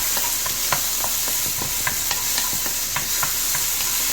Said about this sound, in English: saute it until the onion becomes translucent